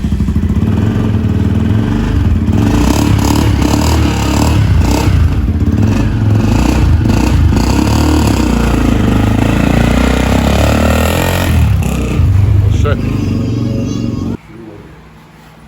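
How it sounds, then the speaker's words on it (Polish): A motorcycle engine is started and revved nearby in Cambodia, a loud, rough, continuous mechanical clatter rising and falling with throttle blips before cutting off abruptly at the end. "jeszcze tutaj jakiś pracownik Marcina odpala motor"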